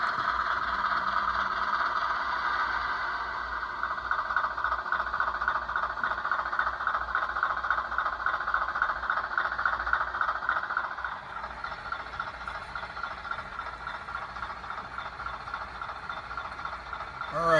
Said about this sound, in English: our inbound train is coming in now